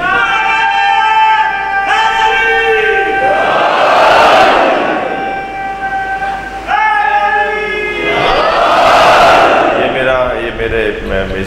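At a Muharram majlis, a large crowd chants religious slogans in unison. A leader's call is answered twice by a loud, swelling group shout.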